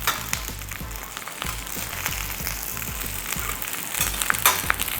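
Pho aromatics char and roast in a hot pan, giving a steady, close sizzle with scattered crackles and pops throughout and no talking.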